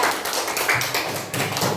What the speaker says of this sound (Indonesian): tepuk tangan dulu kalau untuk kelompok 3